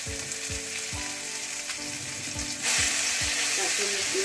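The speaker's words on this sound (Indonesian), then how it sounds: "Kita tumis dulu sebentar." Spice paste sizzling and frying in about three tablespoons of hot oil for a chicken semur with chili powder, a steady loud crackle broken by low stirring knocks that grows brighter and louder near the end.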